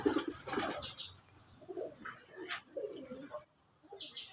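Many domestic and foreign pigeons kept in a three-tier loft, soft low cooing in short bursts close by, fairly faint, with some light rustling.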